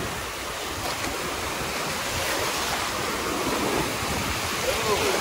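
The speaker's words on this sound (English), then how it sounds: "Man, those are waves." Ocean waves breaking on a shore produce a loud, continuous roar and wash of surf with wind rushing over the microphone, steady throughout.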